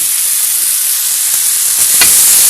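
Bacon lardons and mushrooms sizzle steadily in a pan over high heat, a loud, close, continuous hiss with a slight stirring clatter near the end and no talking.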